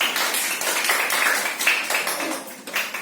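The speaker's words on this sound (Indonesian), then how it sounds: "Tepuk tangan dulu" A group of schoolchildren claps together in a classroom, giving sharp, uneven bursts of handclaps at close range, fairly light and brief rather than a full ovation.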